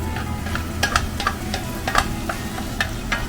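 Sisig with lemon being stirred in a frying pan, a steady sizzle broken by a quick series of scraping and clacking strokes of the spatula.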